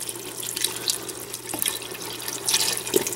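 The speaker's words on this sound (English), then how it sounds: "Going to add our vegetable broth, the whole thing." A 32-ounce carton of vegetable broth pours into a soup pot of minestrone on the stove, a close, continuous splashing and gurgling stream of liquid with fluctuating bursts, no voices.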